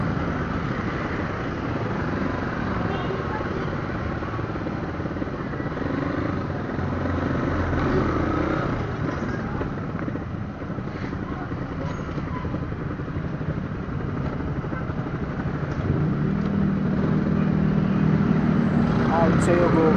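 Congested road traffic during a town fiesta, a constant low rumble of motorcycles and cars with engine drone swelling near the end, while voices talk over it.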